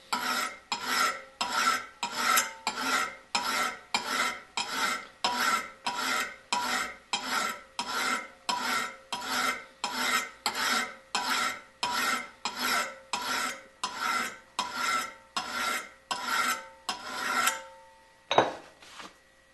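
A file sharpening a single-bevel steel broadhead, taking off steel in steady, even rasping strokes, roughly twenty-five close repeated passes in a regular rhythm, then a brief clink near the end, with no talking.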